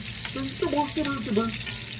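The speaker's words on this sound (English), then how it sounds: "This is going to fry up real quick." Butter sizzles and spits steadily in a hot pan for steak, a close, continuous frying hiss with a few brief tonal squeaks and no talking.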